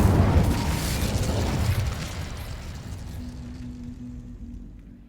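A fire spell bursts in Hogwarts Legacy, a loud whooshing blast with a booming, crackling flare that fades over a few seconds into a low hum.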